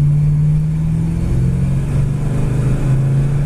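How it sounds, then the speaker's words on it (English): A 1967 Dodge Coronet accelerating on the road, its engine droning loud and steady from inside the car with a low, sustained hum throughout, no talk. "It really accelerates nicely though."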